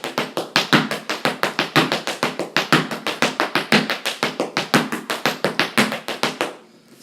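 Fast, crisp Irish dance hard-shoe taps (bang tip-diddly step) in a steady driving rhythm, close and loud, repeating without pause for several seconds before stopping abruptly.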